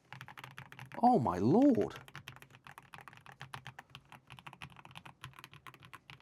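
Typing clatters on a Redragon K719 Pro 96% gasket-mounted mechanical keyboard, a quick, steady run of close, muffled keystrokes, with a brief exclaiming voice near the start.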